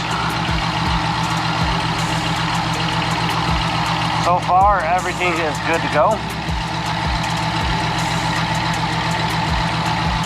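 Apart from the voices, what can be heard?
pickup truck engine idling with louder exhaust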